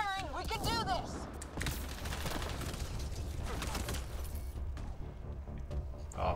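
Bursts of gunfire in the video game Mass Effect: Andromeda crackle under game music and effects, rapid shots mixed with mechanical clatter at moderate loudness, with brief in-game voices.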